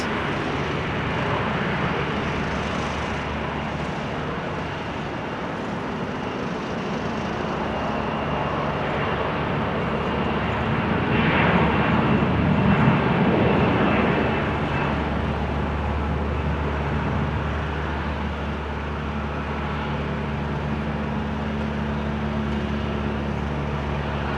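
An Aegean airliner at Amsterdam Schiphol Airport in showery weather, a broad steady jet roar that swells slightly in the middle and holds at a distance, with no talking.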